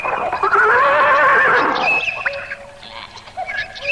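A horse neighs in an Indonesian radio drama, one loud, drawn-out whinny with a wavering pitch that fades into quieter trailing calls and background sound effects.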